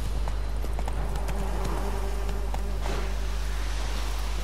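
Hooves of the horse Roach galloping in The Witcher 3 video game, a fast steady clip-clop rhythm over a constant low hum of game ambience, without speech.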